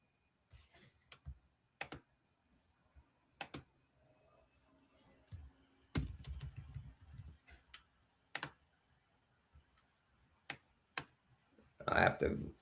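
Sparse computer keyboard keystrokes while logging in: scattered single clicks and short bursts of typing with long quiet gaps, close and fairly faint, ending in a louder cluster of taps.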